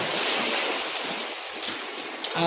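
Waves surge steadily onto Sulok Beach in General Nakar, a continuous broad wash of surf with a slight swell near the end and no voices.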